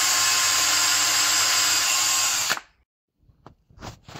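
A power drill bores a small hole in a Radiotehnika 6AS-2 speaker cabinet, whining steadily up close for about two and a half seconds before cutting off, followed by a few faint knocks and handling sounds.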